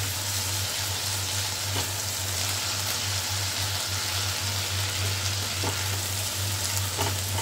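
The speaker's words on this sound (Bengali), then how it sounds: "আদাটা একটু নাড়তে চাড়তে, যতক্ষণ একটু আদার গন্ধটা না যাওয়া পর্যন্ত নাড়তে থাকবে।" Ginger paste fries in a pan with steady, loud sizzling while it is stirred, a continuous hiss running throughout with occasional soft scraping knocks and no talking.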